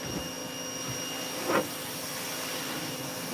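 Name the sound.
pressure washer washing a boat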